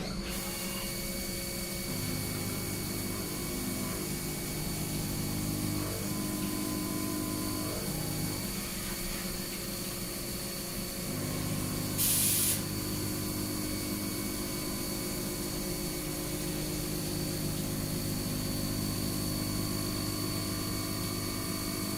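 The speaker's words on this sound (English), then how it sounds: "we're going to get that tool 5 out again, that spot drill, and chamfer the entire part" Simulated CNC machining where a spot drill, tool 5, chamfers the edges of a Geneva drive wheel, a steady whirring machine drone with tonal hum and faint shifts in pitch, plus a brief hiss near the end.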